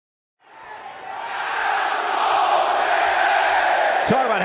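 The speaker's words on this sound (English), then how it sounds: "We've got an animated crowd here tonight." Loud video game crowd from WWE 2K21 wrestling, a dense roar of cheering and yelling that swells after a brief silence and holds steady, with a sharp whoop near the end.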